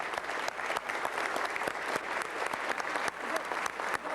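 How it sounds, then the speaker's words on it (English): A city council meeting audience claps continuously, a dense, steady patter of many hands with occasional sharper individual claps throughout. "Please, let's give them a round of applause."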